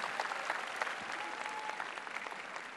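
An audience at an international Malay-language speech competition final applauds the nine finalists, a dense, steady clapping that fills the hall throughout with no voices over it.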